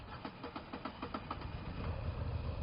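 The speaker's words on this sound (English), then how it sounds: "Moto Guzzis, and any bike that has this type of engine is going to do a fun thing when you start it up" A 2022 Moto Guzzi V9 Bobber's transverse V-twin fires up and settles into a rhythmic, lumpy idle, the pulses steady and close, with no one speaking.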